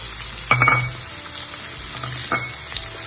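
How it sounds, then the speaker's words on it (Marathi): Finely chopped onion and garlic frying in a pan for lasooni palak khichdi sizzle constantly up close, with two sharp spatula stirs scraping through the hiss. "आता यामध्ये मी बारीक चिरलेला 1 वाटी कांदा घालून घेतला."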